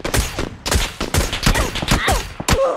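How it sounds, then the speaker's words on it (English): Repeated gunfire in PUBG, a series of sharp shots in quick bursts, loud and close, with a brief gap near the end before more firing. "Yeah, they're shooting. They're shooting."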